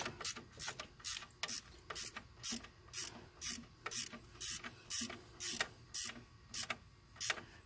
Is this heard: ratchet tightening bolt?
yes